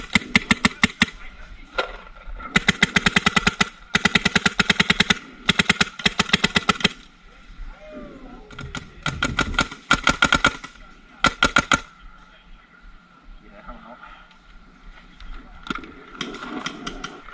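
Paintball guns firing rapid bursts during an outdoor paintball game in the woods, sharp volleys of quick pops repeating in clusters, loud and close, with players talking in between.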